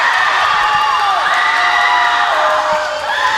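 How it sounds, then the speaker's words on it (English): At a high school swim meet at Gateway, the home crowd cheers a Gateway swimmer with loud, sustained shouting, whoops and whistles that fill the pool hall without a break. "The Gateway faithful cheering her on."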